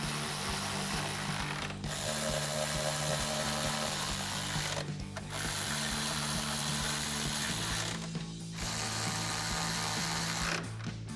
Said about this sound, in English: Now we'll tighten it down with our 10mm socket.